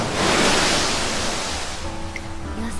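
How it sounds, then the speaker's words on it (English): Ocean waves wash and crash in the Umamusume Pretty Derby video game, a loud broad surf rush that swells early then eases, with a faint tonal game sound near the end. "That sound of the waves crashing"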